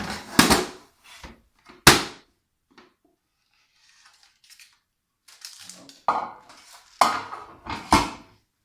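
A chilled cereal energy bar slab being unmolded from a pan, heard as a few loud close clatters and knocks of metal and utensils separated by near silence, with a cluster of rattling bumps toward the end.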